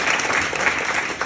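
Audience at a talk applauding, a brief, dense and steady patter of many hands clapping close by.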